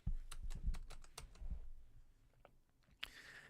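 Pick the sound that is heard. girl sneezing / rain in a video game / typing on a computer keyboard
typing on a computer keyboard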